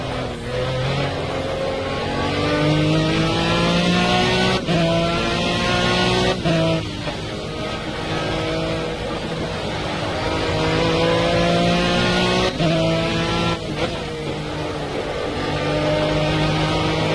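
A GT3 race car lapping Watkins Glen in the Project CARS racing game, its engine droning loud and close through rising and falling gear pitches, with brief breaks at gear changes and braking, no voice over it.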